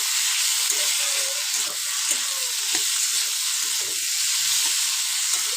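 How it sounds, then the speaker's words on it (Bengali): Spice paste frying with a splash of water for a fish and green pea curry, a continuous loud sizzle and hiss with soft spoon stirs breaking through now and then. "একটু অল্প জল দিয়ে দেবো সামান্য মতন, দিয়ে আবারও মশলাটাকে খুব ভালো করে কষিয়ে নেব আমরা"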